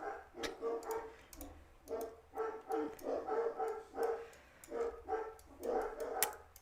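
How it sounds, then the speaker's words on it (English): Dogs barking in a rhythmic run of muffled, moderately distant barks against a low background hum, with no talking. "And the dogs are barking."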